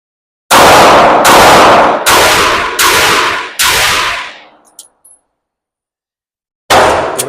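Five loud, closely spaced shots ring out from an everyday-carry handgun at about one-second intervals. Each report is sharp and echoing, the last fades out, and one more shot cracks after a pause of a couple of seconds.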